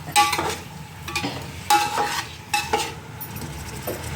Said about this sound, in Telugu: దోరగా వేగిన తర్వాత ఫిష్ వేసాం. ఫిష్ కూడా మరి ఎక్కువ వేగట్టాల